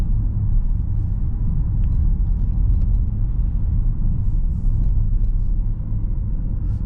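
Peugeot 3008 hybrid coasting downhill with the driver's foot off the accelerator, heard from inside as a steady, loud low road-and-engine rumble that holds evenly throughout with no voices.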